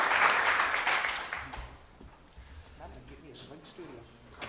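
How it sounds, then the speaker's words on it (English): Audience applause at a talk about gadgets and drones, a broad burst of clapping that is loudest at the start and fades over about two seconds into murmuring and quiet talk. "just a round of applause for David, Jeff, and Abby"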